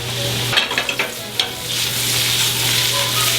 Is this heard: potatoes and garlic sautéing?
yes